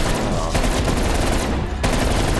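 Rapid automatic gunfire in the video game Call of Duty Cold War Zombies on the Firebase Z map, a dense continuous stream of shots that briefly pauses and then resumes loudly.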